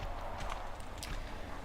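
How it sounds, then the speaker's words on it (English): Heavy enemy footsteps in a soulslike action game, a quick run of close, loud thuds over a steady ambient bed, with no talking. "Those footsteps are so loud, it's hard to tell where they're coming from"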